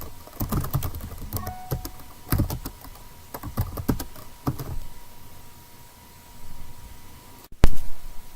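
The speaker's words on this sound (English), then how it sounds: "we're going to type in help reference interface address" Keys tapped on a computer keyboard to enter a command, quick irregular bursts of close clicks followed by a pause and a louder final keystroke.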